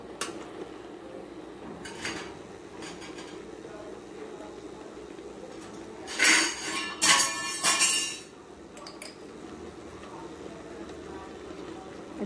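Kochur loti with green chilies stirred in a pan, a spatula scraping and clinking against metal in a few sharp bursts, loudest in a cluster midway, over a quiet simmering background without talk.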